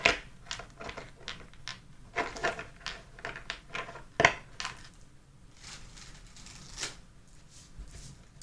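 A run of crisp, fluttering tarot card riffles, several quick bursts close by with brief pauses between, ending in a softer rustle.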